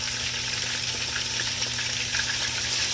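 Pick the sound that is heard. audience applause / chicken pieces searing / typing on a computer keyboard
chicken pieces searing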